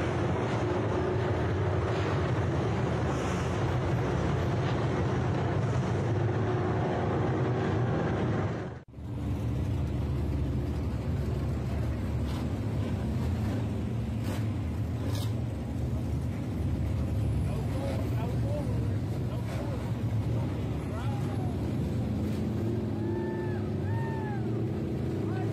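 Race cars at a Forever 51 event roaring past and pulling down for a fuel stop, a loud continuous engine drone that cuts out briefly then resumes, with distant crowd and a voice faintly underneath.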